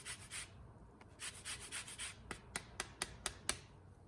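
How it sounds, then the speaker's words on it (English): A quarter of a lemon being zested on a grater, a series of short rasping strokes, faint and close, that quicken into crisp rhythmic scrapes near the end. "Zest a quarter of a lemon."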